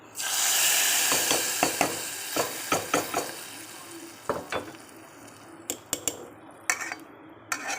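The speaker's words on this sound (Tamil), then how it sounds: "தாளிப்பு கொட்டிடுவோம்." Hot oil tempering with asafoetida, dried chillies and curry leaves sizzles as it is poured into mung dal sambar, a soft hiss followed by scattered clinks of a metal spoon against the pan.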